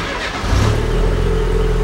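A car engine cranks and catches, settling into a steady running drone close by, with no voices over it.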